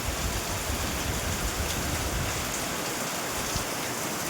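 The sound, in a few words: heavy rain outside the window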